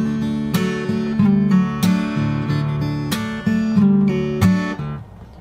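Fingerstyle acoustic guitar plays the opening bars of the verse, mostly on open strings in D, with clear plucked notes ringing under sharp percussive slaps in a steady rhythm, close and alone.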